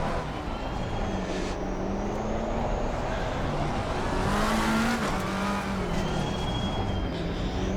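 Race car engine in Assetto Corsa Competizione held at steady revs with the brake on, a continuous loud droning hum with harmonics rising and dipping slightly, no speech.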